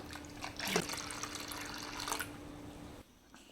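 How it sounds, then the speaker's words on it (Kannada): Water poured into neer dosa batter while preparing it, a steady splashing pour that runs for about two seconds before tapering into quieter liquid sounds, with no talk. "ನೀರು ನಮ್ಗೆ ಎಷ್ಟು ಬೇಕೋ ಅಷ್ಟು ನೀರನ್ನ ಹಾಕ್ತಾಯಿದ್ದೀವಿ"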